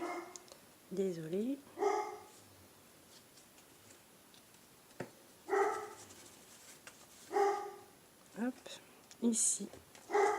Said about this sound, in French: Voilà mon chien qui aboie.